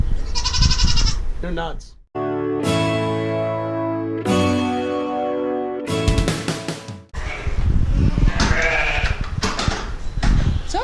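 Goats and sheep on a homestead bleat in several loud, wavering calls close by, broken by short pauses, with people talking over and between the animal cries.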